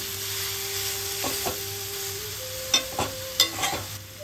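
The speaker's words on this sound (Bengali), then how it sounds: "হালকা আমরা ভেজে নেব।" Olives frying in oil for chutney, a steady continuous crackling hiss in a pan with a few sharp clicks and scrapes of stirring near the end.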